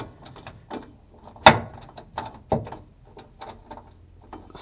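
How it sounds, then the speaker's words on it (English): Top shock absorber bolts on a 2nd Gen Mercury Mountaineer are tightened with a socket and new hardware, giving a series of short metallic clicks and ratcheting bursts, with two sharper clanks, close and unhurried. "we are tightening the top bolts now with the new hardware"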